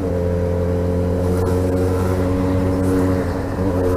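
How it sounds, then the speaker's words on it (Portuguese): Steady, loud drone of a Yamaha XJ6 motorcycle engine riding in heavy highway traffic near a toll queue, a continuous low rumble with no talk over it. "O ronco bonito da XJ."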